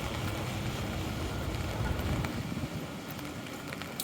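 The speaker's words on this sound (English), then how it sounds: "It's windy today" Gusty wind rushes and buffets the microphone on a street in downtown Halifax, a broad roaring noise that swells and eases without any voices.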